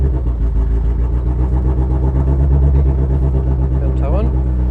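A Seat 600 rally car from the 1960s idles and revs steadily nearby on a circuit, its mid-pitched engine note loud and continuous throughout, with some talk over it.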